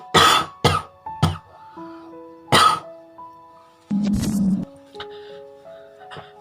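A person with a cold coughs several times in sharp, loud bursts and clears their throat, close to the listener, with quiet gaps and faint sustained electronic tones in between.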